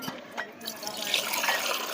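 Cold drinking water pours steadily into a glass nearby, a light trickling stream that grows fuller toward the end, with faint talk in the background.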